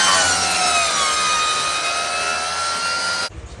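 A carbide cutter grinds steadily on new tools in a workshop, a loud continuous high-pitched whine that holds for about three seconds and then stops abruptly.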